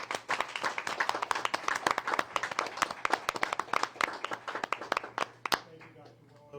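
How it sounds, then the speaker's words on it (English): A room of people at a school board meeting breaks into a round of applause, many hands clapping steadily and fairly close, then thinning out to a few scattered claps near the end. "So maybe a round of applause."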